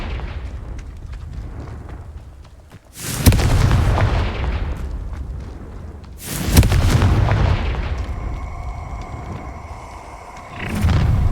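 Confringo spell blasts in Hogwarts Legacy, loud booming explosions arriving in three separate bursts a few seconds apart, each one rumbling and crackling before it fades, over continuous game background noise.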